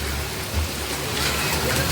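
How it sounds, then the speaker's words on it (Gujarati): Steady, dense rain falling outdoors during the first rain of the year, a loud, even wash of drops with no pauses. "આ વર્ષનો પહેલો વરસાદ હો."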